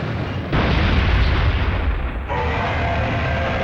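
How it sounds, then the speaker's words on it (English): A huge Allosaurus in the Dino Crisis 2 video game sends out a heavy, rumbling roar and thudding boom, loud and deep, that swells after a half-second and then settles into a sustained low growl. "That's an Allosaurus."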